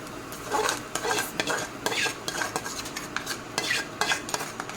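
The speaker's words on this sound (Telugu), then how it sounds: "మనం ఫ్రై చేసి పెట్టుకున్న ఆనియన్ ఇప్పుడు దీంట్లో వేసేస్తున్నాను" A spoon stirs fried onions into a pot of red lentil soup, with repeated scraping and clinking strokes over a light sizzle.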